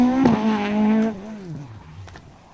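A modified rally car at the Circuit of Ireland Rally brakes hard on cold tyres: a loud, close engine note drops in pitch for about a second, then trails off through a falling, squealing whine.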